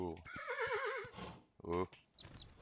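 A video game horse lets out a loud, wavering whinny, followed by a few shorter snorts and brief sounds.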